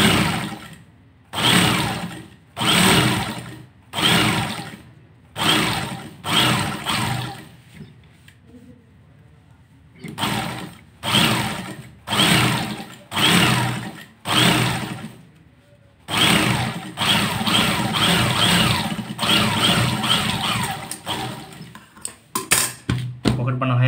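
A tailor's sewing machine stitches a Kallidar Punjabi in repeated short bursts of rapid mechanical whirring with brief pauses between them, ending in a longer continuous run; a voice speaks quietly in the gaps.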